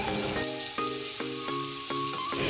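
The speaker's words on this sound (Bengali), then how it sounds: "তো আমি এখানে গোটা জিরে আর কালো জিরে দিয়ে দিলাম।" Whole cumin and black cumin seeds sizzle steadily in hot oil left from frying fish for a Bengali prawn and pointed gourd dish, a dense close crackle with a few spatula scrapes and stirs over it, no talking.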